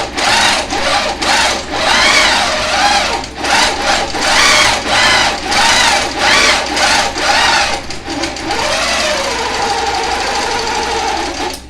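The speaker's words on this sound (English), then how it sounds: "When I get to a line, I'm going to stitch that line." Home sewing machine stitching along a marked line on a pantograph-printed quilt top, loud and close, running in rapid bursts with short pauses, then settling into a steadier quieter hum.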